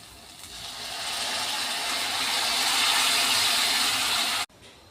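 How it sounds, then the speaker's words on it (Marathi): Water poured into fried homemade masala in a pan for a sengule (dubuk vada) curry, a steady rushing hiss that swells and holds for about four seconds, then cuts off abruptly. "आता आपण याच्यामध्ये पाणी ओतून घेणार आहोत."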